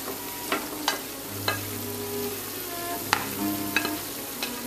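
Mushrooms and onions frying with veal in a pan, a steady sizzle with occasional stirring clinks and scrapes, close and continuous, no talking.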